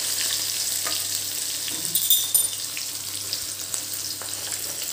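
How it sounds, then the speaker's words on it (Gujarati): Peanuts frying in oil with curry leaves and green chillies, a steady soft sizzle with occasional faint stirring and crackles, close and continuous with no talking. "હવે સીંગદાણા થોડા બ્રાઉન કલરના થાય ત્યાં સુધી આપણે એને શેકાવા દઈશું."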